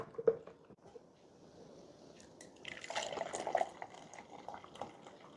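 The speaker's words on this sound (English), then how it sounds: "And then I will pour it in the measuring cup," Sourdough starter splashing and gurgling as it is poured into a measuring cup, a soft wet stream with small squishy drips, close by and fairly quiet.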